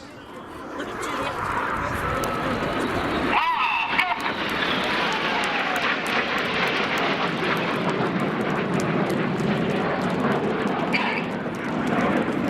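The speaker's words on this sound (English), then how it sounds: "These 4 jets now descend to just 100 feet. Their closing speed is now 800 miles an hour." Red Arrows display jets making a low pass at 100 feet during an airshow at East Fortune, a broad sustained jet roar building and holding throughout, with a commentator talking over it.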